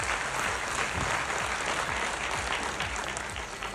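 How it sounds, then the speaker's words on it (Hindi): Loud, sustained applause from a seated workshop audience, dense clapping filling the whole stretch at steady intensity with no speech over it. "एक बार जोरदार ताली हो जाए"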